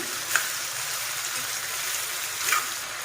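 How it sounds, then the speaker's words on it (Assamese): Local chicken fries in a pan with a steady, hissing sizzle that stays close and even throughout, with two small sputtering pops rising above it. "এতিয়া অলপ দেৰি ভাজিব লাগিব মুৰ্গীখিনি।"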